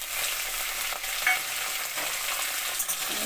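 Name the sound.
potatoes frying in oil with fenugreek seed tempering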